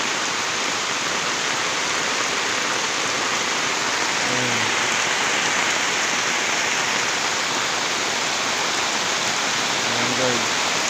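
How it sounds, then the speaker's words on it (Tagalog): Heavy rain pours steadily in Bicol, a dense hiss of water close by, with a couple of faint brief voices under it. "Ang lakas ng ulan"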